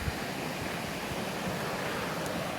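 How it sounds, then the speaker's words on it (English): Steady broadband rush of Loon Creek flowing through a rocky canyon, a continuous close roar of water with no talking. "We have the river."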